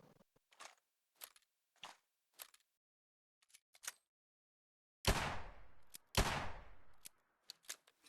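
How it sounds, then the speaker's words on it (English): A virtual revolver in a VR game mod has its cylinder swung open for a partial reload, producing a sequence of crisp mechanical clicks and ratchet ticks, then two louder metallic snaps with brief ringing decay, followed by more quick clicks. "I can also perform partial reloads by opening the weapon cylinder"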